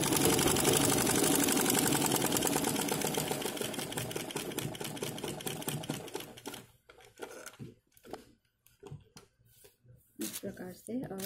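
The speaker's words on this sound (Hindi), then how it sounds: "अब हमको इस किनारी किनारे पे सिलना है।" Sewing machine stitching along the border edge of a blouse, a dense rapid mechanical chatter that runs loud and steady for about six seconds, then breaks into short stop-start bursts with pauses between.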